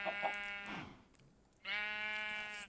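Sheep in the Minecraft-style game Oneblock, two clear bleats with a short pause between them, fairly faint and alone.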